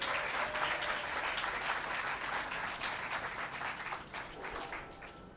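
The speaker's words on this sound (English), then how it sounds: "Let's give them all a round of applause." An audience at the People's Theatre Project groundbreaking in New York applauds steadily for several seconds, a dense wash of clapping that tapers slightly toward the end, with no talking.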